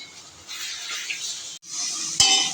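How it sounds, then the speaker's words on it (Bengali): Ground coriander, chilli powder and Kashmiri chilli powder with a splash of water sautéing in a pan, giving a steady close sizzling hiss, a brief break, then a clink. "ধনে গুঁড়ো লঙ্কা গুঁড়ো আর কাশ্মীরি লঙ্কা গুঁড়ো আর সঙ্গে সামান্য একটু জল দিয়ে এটাকে আমি কষিয়ে নেবো"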